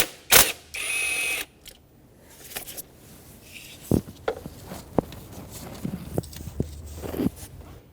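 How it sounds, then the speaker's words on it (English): Ratchet clicks in short bursts as a 10mm socket backs out the bolt holding the speed sensor on a 2006-2010 Hyundai Sonata 2.4L, followed by scattered tool taps and handling knocks, close and fairly quiet. "Use a 10mm socket, unbolt the bolt that holds down the sensor."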